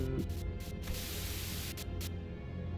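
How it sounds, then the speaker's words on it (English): A burst of radio static crackles through a truck's receiver, a steady wash of hissing white noise lasting a few seconds with brief flutters and pulses, fairly faint and alone. "A sudden buzz of white noise breaks through the truck's silence."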